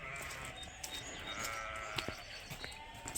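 Suffolk sheep bleat intermittently as a flock is moved along on a farm, several short calls rising over a steady background of shuffling and outdoor noise.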